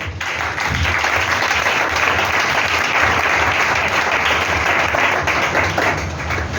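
A church congregation bursts into loud, sustained applause, a dense wash of many hands clapping together that holds steady for several seconds, with no distinct voices.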